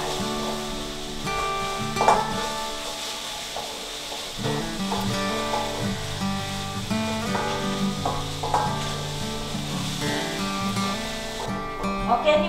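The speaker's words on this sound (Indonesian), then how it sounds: "Goreng terus bawang halusnya sampai wangi ya" Ground onion paste frying in oil in a pan for chicken soup, giving a steady sizzle with stirring clatter and scrapes, fairly close, with some background sounds and voices at times.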